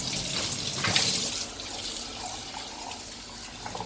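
Water pours and splashes at a wash basin to rinse soap off window blinds, a steady close running-water sound with a louder gush near the start.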